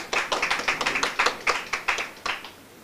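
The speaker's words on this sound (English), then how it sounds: "Give him a round of applause." A lecture audience at an inaugural public lecture claps for the founding dean, with a small group's sharp, fairly regular claps landing in a steady rhythm before trailing off near the end.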